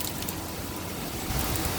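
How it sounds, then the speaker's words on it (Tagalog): Sudden rain falls steadily outside a home window in Singapore, a dense, even hiss throughout with no talking. "bigla na lang umuulan"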